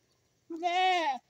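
A pregnant nanny goat close to giving birth lets out one loud, close, wavering bleat lasting under a second, with silence before it.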